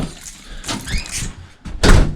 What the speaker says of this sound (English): Coming in through the back door here.